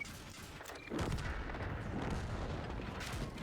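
A tank shell hit on the tracks in World of Tanks, a sudden heavy boom near one second that swells into a dense rumbling roar and slowly fades under steady battle noise.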